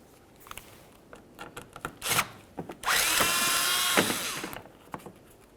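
A power tool spins out a bolt holding a bracket on a 2003-2007 Honda Accord's lower grille area, a few short taps and bursts before one sustained, loud whirring run of about a second and a half, then tapering off.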